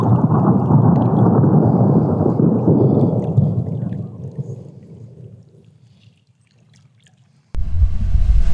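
Loud rolling thunder from a lightning storm over a Wyoming fly fishing trip, a long rumble that slowly fades over several seconds before a sudden new loud burst cuts in near the end.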